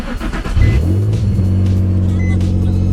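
A Nissan 350Z engine cranks and catches, then settles into a loud, steady idle close by with no talking.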